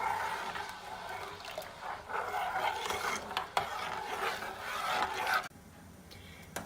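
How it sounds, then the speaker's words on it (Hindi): A spoon scrapes and stirs milk in a pan as it thickens into condensed milk, close rhythmic rubbing strokes that stop abruptly near the end. "इसको हम लोग बस चम्मच चलाते जाएंगे।"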